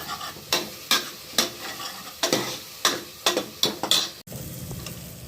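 Green chilli paste with turmeric is stirred in a sizzling pan, giving about ten sharp, close scraping strokes in an uneven rhythm over a soft frying hiss, with no voices.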